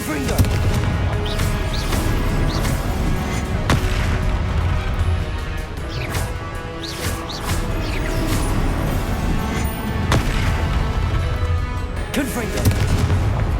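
Repeated Confringo blasting-spell explosions in the Hogwarts Legacy game, loud booming blasts and crashes arriving one after another over a continuous battle din.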